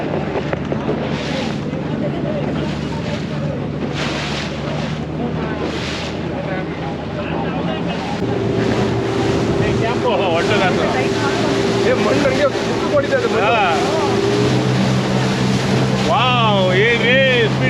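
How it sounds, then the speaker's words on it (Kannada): A speedboat races across the sea toward Coral Island at Koh Larn, Pattaya, its engine droning loudly under heavy wind buffeting on the microphone, with voices heard over the roar. "ಸ್ಪೀಡ್ ಬೋಟು ಕಾರಲ್ ಐಲ್ಯಾಂಡ್ ಹೋಗ್ತಾ ಇದ್ದೀವಿ."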